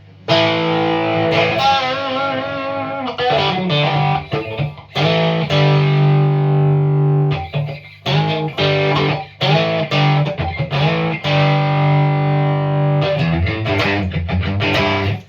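Electric guitar, a Stratocaster, played through a Greer Southland overdrive pedal, gritty sustained chords and riffs with short breaks between phrases, loud and close, no voices.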